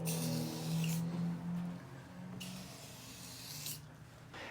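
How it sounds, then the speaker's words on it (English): Glue accelerator is sprayed onto a clamped plywood edge in two steady hissing bursts, close and fairly loud, separated by quieter room noise, with no talking. "So now I can add the accelerator spray"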